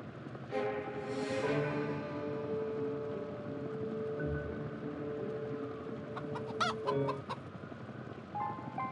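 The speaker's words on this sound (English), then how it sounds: "Chickens of course." Several chickens in the video game Dead Trigger 2 cluck and squawk nearby in an overlapping chorus, with sharper calls rising toward the end.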